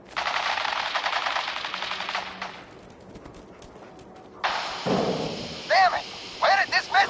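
Automatic gunfire in the video game Fallout 4 rattles in a long rapid burst, pauses, then resumes in a second barrage with sharper individual shots, loud and close, with voices mixed in.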